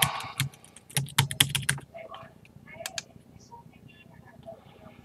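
Quick clattering keystrokes on a computer keyboard entering a password while setting up a Raspberry Pi Zero hotspot, loud and close in the first two seconds, then sparser, fainter taps over low background hum.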